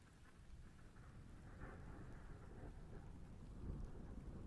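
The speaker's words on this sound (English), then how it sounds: "that's the rain coming through" Rain pours down outside while thunder rolls low and heavy underneath, a continuous rushing wash with a deeper rumble swelling toward the end, no one speaking.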